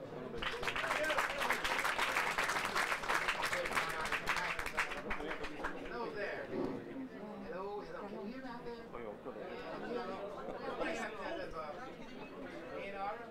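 Audience applause at a Texas blues band concert in a Belgian club, loud sustained clapping for the first few seconds that thins out into crowd chatter and talk.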